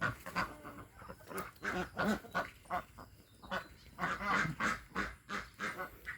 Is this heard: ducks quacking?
yes